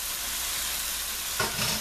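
Chicken gizzards hit hot fat in a pot, a soft steady hiss rising into a sudden louder burst of sizzling near the end, with no talking.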